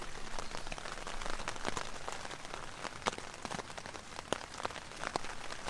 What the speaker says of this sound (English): It reminds me of rain on a corrugated iron roof.